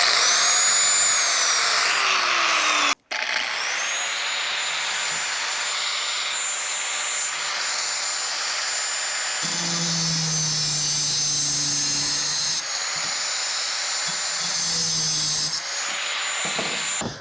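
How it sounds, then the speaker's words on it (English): An angle grinder powered by a TOPSHAK 1000-watt solar generator whines at a high steady pitch for the whole stretch, with one brief cutout near the start and a few shifts in load partway through. "This will run, say, an angle grinder."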